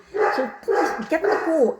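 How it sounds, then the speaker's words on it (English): Dogs bark in a quick run of three sharp, loud barks indoors, overlapping with a person speaking. "sorry about the dogs"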